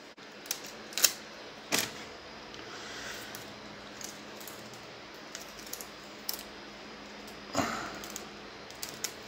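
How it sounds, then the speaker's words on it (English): Protective plastic film is peeled off an EVGA RTX 3070 Ti graphics card in a quiet room. It gives faint, scattered crackles and a few sharper ticks. "let's peel off all the plastic on here."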